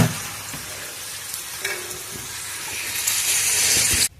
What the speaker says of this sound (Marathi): बनवते आता सुमित्रा वडे. बघा हे आता असे तळून घेता बा.